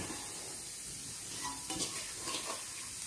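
Half a kilo of ground clams frying in chilli-spiced oil for a shellfish roast, a steady close sizzle with a few soft stirring scrapes, no voices.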